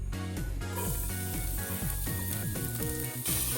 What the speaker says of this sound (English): after the olive oil is hot, I will be going to saute garlic and onion.